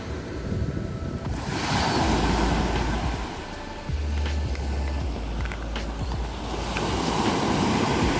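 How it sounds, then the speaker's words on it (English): Waves break and wash onto a seashore in a constant rushing surge, loud and close, with wind rumbling across the microphone and no one talking. "Waves hitting the shore is very restful"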